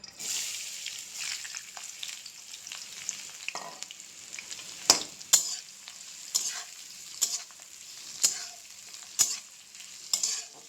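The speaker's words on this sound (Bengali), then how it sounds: "এখন দিয়ে দেব রসুন আর পেঁয়াজ কুচি করে কেটে রেখেছি, এগুলো দিয়ে দেব" Chopped garlic and onion frying in oil, a bright close sizzle with regular scraping stirs and clinks of a spatula against the pan, no voices.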